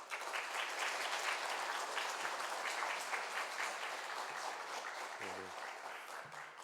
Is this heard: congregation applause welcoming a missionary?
yes